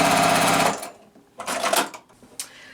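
A sewing machine stitches a quilt's tree trunk piece in a fast, rapid close run that stops after under a second, followed by a few shorter whirring bursts and handling noises.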